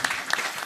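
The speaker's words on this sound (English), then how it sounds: "A big applause once more for the panel" Audience applause for a discussion panel, a brief burst of scattered hand claps from a small crowd indoors.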